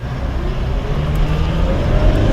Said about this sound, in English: Just did it in nice gear grind into second